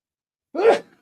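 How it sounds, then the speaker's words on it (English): A single short sneeze, close and fairly loud, bursting out of silence and trailing off quickly. "oh, excuse me, I got to sneeze"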